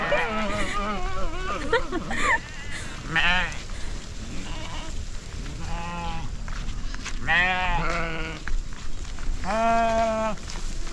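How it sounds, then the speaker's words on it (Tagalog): Goats bleat repeatedly, several wavering calls overlapping one another close by, with other farm noise in the background. "Agpaparaw na yung isang kambing."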